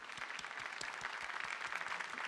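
A concert audience applauds at a Crimean Tatar music event in Ankara, a steady, dense patter of many hands clapping at moderate distance and low level, with no voices heard.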